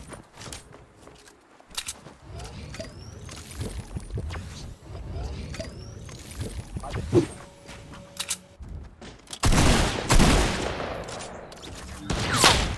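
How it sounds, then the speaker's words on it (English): Sniper and other gunfire in a Fortnite match, scattered sharp cracks of varying distance among footsteps and game effects, building to a dense loud burst of shots near the end. "Getting heavy sniped at, though."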